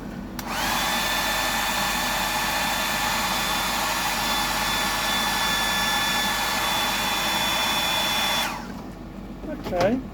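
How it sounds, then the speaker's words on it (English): An air compressor for airbrush painting a 100mm Sammy fishing lure runs steadily nearby, a loud continuous whine and hum lasting about eight seconds before cutting off abruptly. "she doesn't like the compressor, the noise of the compressor"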